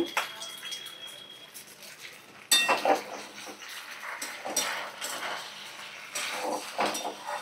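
Pasta with tomato ketchup stirred in a pan, a close, soft wet scraping and clatter of a spoon against the pan with faint sizzle, steady after a sharper onset partway through.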